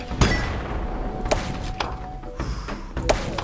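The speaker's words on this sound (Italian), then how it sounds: "Fortunatamente ho beccato un'esplosione." Ball explosion in the Zuma's Revenge video game: several sharp thuds and cracking bursts spaced over a few seconds, over a busy layer of game sound effects.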